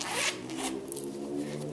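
A Baggett wallet's zipper is pulled open, giving a short, close, raspy zip followed by quieter rubbing, with no speech.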